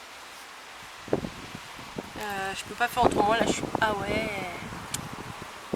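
Outdoor wind buffets the microphone with a steady rough rumble and rustle, while a person speaks French over it in bursts.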